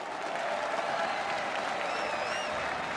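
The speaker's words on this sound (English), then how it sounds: "Please join me in giving Shimon Yehuda a truly well-deserved round of applause." Dense, sustained applause from a large audience at a Siyum HaShas gathering, a continuous wash of clapping with a faint whistle rising briefly above it.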